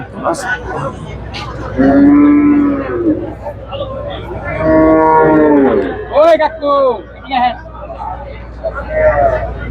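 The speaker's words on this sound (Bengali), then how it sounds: "অসাধারণ দুধের গাভী আমরা দেখতে পাচ্ছি" Dairy cows at a cattle market let out two long, loud moos close by, followed by shorter calls, over steady crowd chatter and people talking.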